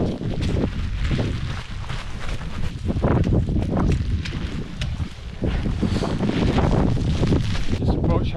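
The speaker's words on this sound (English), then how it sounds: "It's very windy up here." Strong, gusty wind roars and buffets the microphone continuously, loud and close, with no voices, on a Lake District fell near Heron Stickle in January as hail begins.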